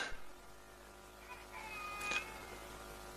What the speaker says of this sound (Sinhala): පූසා කෑ ගහන්නේ නැද්ද?